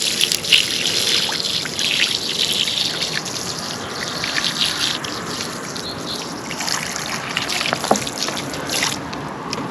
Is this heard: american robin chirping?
no